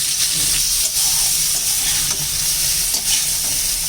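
Onion and green chili paste sizzling and frying steadily in a pan for a prawn curry with potato and eggplant, with occasional stirring scrapes over a continuous close hiss.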